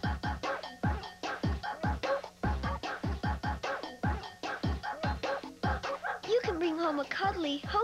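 Several dogs bark and yip in rapid, rhythmic bursts throughout a TV commercial for Hotel for Dogs, loud and close, with whimpers and a voice joining toward the end.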